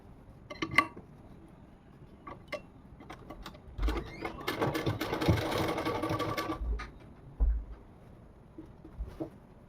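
A sewing machine stitching a fall onto a saree, short bursts of needle clatter followed by a longer steady run of rapid stitching, close and clear.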